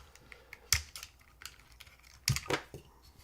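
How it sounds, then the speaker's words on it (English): Keystrokes on a custom Hall-effect mechanical keyboard, a few scattered clacks and two sharper bursts of quick presses, close and fairly crisp against a quiet room. "let me unplug this because I'm typing random things."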